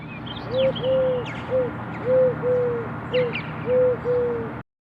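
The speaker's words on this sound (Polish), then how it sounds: "jak przyjemne dla ucha odgłosy wydaje synogardlica turecka" Soft, repeated three-note coos of a Eurasian collared dove, close and clear against a faint outdoor background with distant bird chirps.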